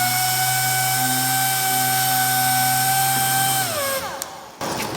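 Rupes machine sander working paint with 3000 grit on a foam pad, a steady high-pitched whine at around 11,000 RPM that drops in pitch as it winds down near the end, ending with a brief clatter; no talking.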